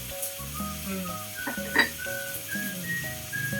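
Steady sizzle of onions or spices being sautéed in a hot pan before tomatoes go in, with occasional stirring clinks and scrapes of a utensil against the pan, fairly close and continuous.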